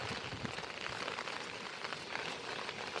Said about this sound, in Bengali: কি সুন্দর রিমঝিম বৃষ্টি